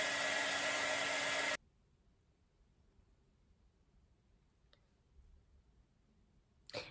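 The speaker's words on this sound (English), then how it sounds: "I might actually hair dry it" A hair dryer blows hard on a Bratz doll's hairspray-coated hair, a loud steady whoosh for about a second and a half that cuts off abruptly, followed by near silence and a faint click near the end.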